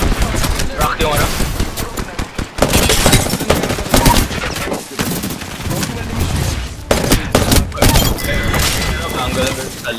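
Rapid video-game gunfire crackles in dense automatic bursts and fusillades, loud and close, with brief gaps between volleys and a player talking over the shooting.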